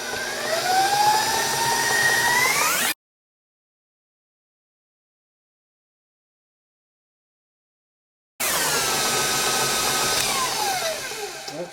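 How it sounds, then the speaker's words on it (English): An electric mixer with a paddle beats thick carrot cake batter, a loud, steady motor whir in two stretches of about three seconds each, separated by a long gap of silence. "Now what I'm going to do is I'm going to beat this for a good 2 to 3"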